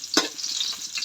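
Ginger hits hot frying oil for a catfish dish, a bright steady sizzle with a sharp crackling burst at the start, close and continuous, no voices.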